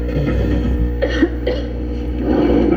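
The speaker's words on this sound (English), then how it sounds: "that cough looks pretty bad" A person coughs and clears their throat in a Robitussin honey cough syrup commercial, two or three short harsh bursts over a steady loud hum, with no talking.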